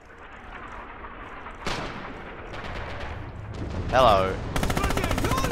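Gunfire in the World War II shooter Red Orchestra 2, with scattered shots and bursts of automatic fire ringing out at moderate distance, a louder blast near the end, and someone speaking over it.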